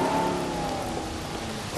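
Steady rain in a Jurassic World video game, a dense, even hiss of falling water that fills the whole moment. A faint musical tone sits underneath at the start, and no one speaks.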